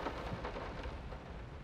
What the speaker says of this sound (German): Der Regen ist sehr inconsistent.